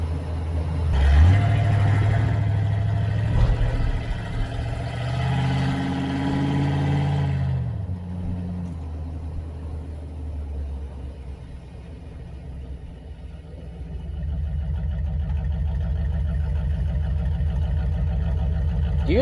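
A Corvette rolls over railroad tracks, its engine giving a steady, close low rumble throughout, with a brief thump early on and a slight swell in revs near the start.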